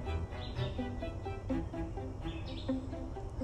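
A bird chirps while building a nest in a potted plant, gathering straw in its beak; short tweets and chirps repeat over a steady, fairly loud background.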